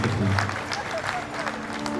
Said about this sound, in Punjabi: ਇੱਕ ਵਾਰੀ ਮੈਂ ਕਹਾਂਗਾ ਕਿ ਭਰ ਕੇ ਤਾੜੀ ਵਜਾ ਦਿਓ